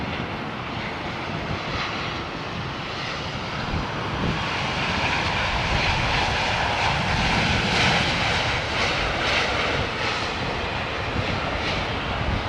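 Jet engines of an airliner, a 787, roaring steadily and loudly at Heathrow, a broad continuous rumble that swells slightly midway and holds without talk.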